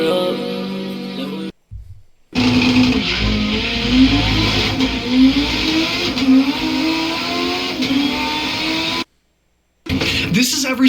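A car engine revs hard in Need for Speed Most Wanted, its pitch sweeping up and down in repeated climbs under a dense wash of game sound and voices, with two short drops to silence.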